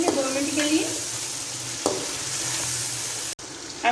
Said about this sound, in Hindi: मीडियम फ्लेम पे हम चिकन को फ्राई करेंगे 2 मिनट के लिए